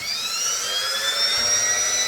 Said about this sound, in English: I'm going to use a rotary tool to cut just that little end of the hook